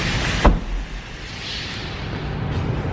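A power window on a 2014 Honda CR-V EX-L runs with a steady motor whir after a single sharp thunk, close and fairly loud inside the cabin with no talking.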